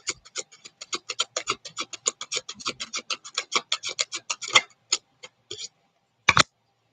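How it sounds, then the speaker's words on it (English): Tarot cards are shuffled in a rapid run of crisp riffling ticks and scrapes that go sparse toward the end, close and clear, with no talking. "You saw me shuffle, or at least heard me shuffle."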